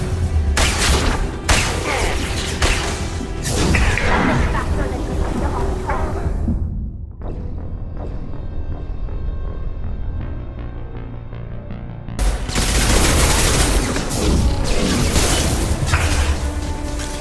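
Turret gunfire in the video game Mass Effect 2, heavy booming shots and bursts at the start and again near the end, separated by a quieter stretch of mechanical hum and tones.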